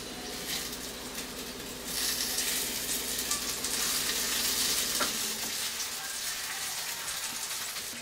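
Potatoes fry in a pan for a curry, a dense crackling sizzle that swells louder as they go in, with stirring scrapes and a soft clank, close and steady with faint voices underneath.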